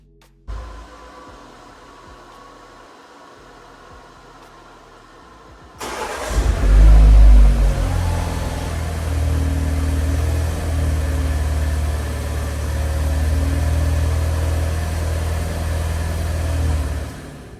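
A BMW G20 320i road trip from Johannesburg to Hoedspruit: a quiet interior hum, then a sudden loud engine surge at about six seconds settles into steady, close, droning road and engine noise with no talking.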